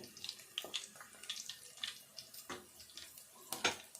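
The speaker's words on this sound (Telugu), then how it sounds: "నేను ఒక మీడియం సైజు రెండు కడిగేస్తున్నా ఉల్లిపాయలు" Faint running tap water while two medium onions are washed, with soft splashes and small irregular clicks and knocks scattered over a quiet, steady trickle.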